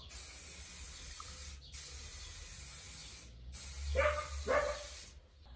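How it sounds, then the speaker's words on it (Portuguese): Acrylic spray paint hisses from a can as a homemade roof skylight is painted. Two long, steady sprays are followed by a pause and a couple of shorter, rougher bursts, all close and fairly quiet. "Eu adoro pintar com spray, porque é rápido e é uma tinta acrílica que seca em 15 minutos."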